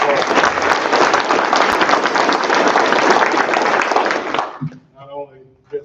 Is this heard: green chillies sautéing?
no